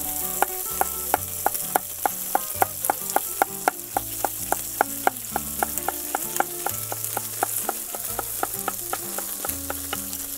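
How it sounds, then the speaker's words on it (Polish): A knife slices a young onion on a cutting board for a Greek octopus salad, making a long run of crisp, evenly spaced chops close by over soft background music. "Odcinam końcówkę, a następnie zgrabnym ruchem w plasterki siekam."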